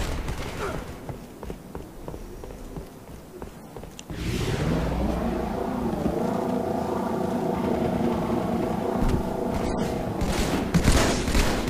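In a shooter video game, bursts of gunfire crackle early on, followed by a sustained loud droning rumble like an aircraft or vehicle engine with scattered shots over it.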